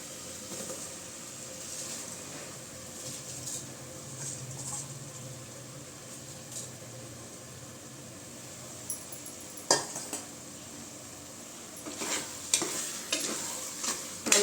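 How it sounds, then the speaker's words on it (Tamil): Rice being stirred into chicken biryani in a pot, a steady soft scraping and gentle sizzle throughout, with a few sharper utensil knocks against the pot near the end. "நல்லா கலந்து விட்டுக்கலாம்."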